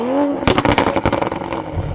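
Tuned 500HP 2021 Toyota Supra exhaust, a short rev that drops into a loud, close burst of rapid crackling pops and burble, tapering into a low rumble.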